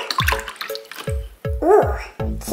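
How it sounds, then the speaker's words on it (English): A toy is rinsed in fizzy soda water, giving close splashes and drips in short bursts. A voice is heard briefly among the watery sounds. "Give it a little rinse in your soda water bubble."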